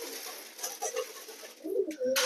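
Pigeons cooing while being fed from a tray, several soft, throaty coos close by with brief pauses between calls and no speech.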